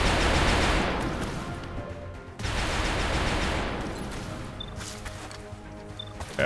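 Sustained gunfire from a soldier laying down suppressing fire in XCOM: Enemy Within, a dense rattling burst filling the first two seconds, then a second longer volley that gradually tapers, fairly loud and close.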